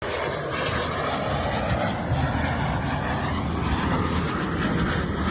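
Fouga jet trainer engines running, a steady, dense roar that holds at an even loudness throughout, broad and unbroken with no clear rise or fall.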